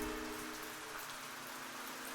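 Steady rain falls on surfaces, a soft, even hiss with no distinct drops standing out and no voices.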